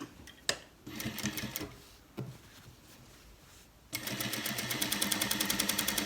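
A sewing machine stitching a flap on a cargo pants back pocket: a few short bursts of rapid stitching with pauses and handling clicks, then a steady, fast run of stitches near and clear to the end.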